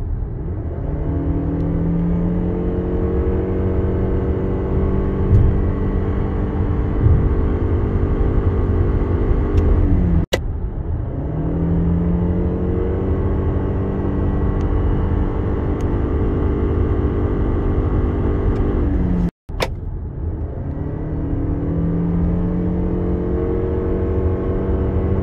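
A Lexus RX 350h hybrid SUV with a 2.5 e-CVT drivetrain accelerating hard, its engine howling in a sustained rising drone that sweeps upward in pitch, dips and climbs again across repeated pulls, loud and close with no talk.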